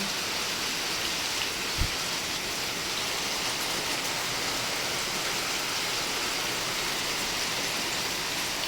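Steady, dense rainfall hisses continuously at close range, a heavy downpour with one faint thump early on.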